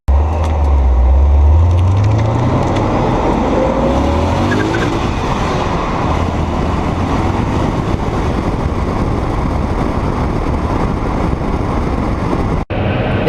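Supercharged BMW E39 M5 accelerating hard, a loud engine roar that climbs in pitch through the gears, with tire noise and a sustained heavy drone that ends abruptly.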